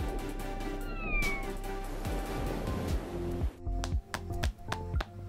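A cat meows several times in short, close calls over a background of continuous broadband noise and faint rhythmic knocking.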